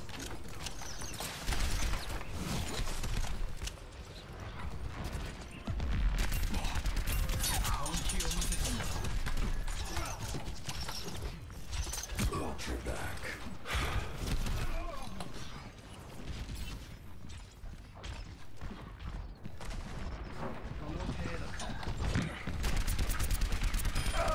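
Rapid gunfire bursts from the video game Overwatch crackle through dense, continuous game noise, with mechanical clatter and a player talking over the action.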